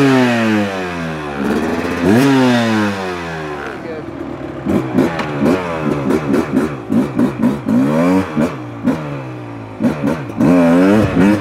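A 2024 Beta 300RR Race Edition two-stroke dirt bike engine revs up and down repeatedly, climbing and falling in pitch, loud and close, with sharp blips of throttle toward the end and no talking over it.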